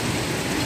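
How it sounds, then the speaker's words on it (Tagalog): Steady rain falls in a brief, dense hiss of drops on surfaces outdoors, with no voices. "So, umuulan pa rin"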